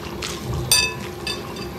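Water is poured and drained off grated potatoes in a home kitchen, giving a brief splashing trickle with a short louder spill partway through.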